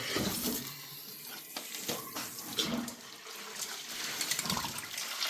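Water gushes and splashes through a drill to flush out grit at a small-scale gold mining site, a continuous rush, spattering and gurgling up close with no voices.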